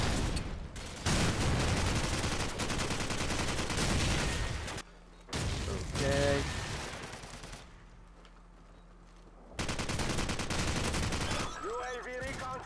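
Gunfire in the video game Call of Duty 4: Modern Warfare, dense loud bursts of rapid automatic shots and blasts with brief lulls, with game sound effects and a voice heard faintly underneath.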